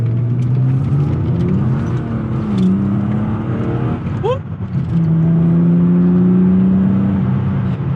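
A BMW E36 323i drones steadily while being driven, its engine giving a loud, continuous low hum that shifts pitch slightly with the revs, heard from inside the car.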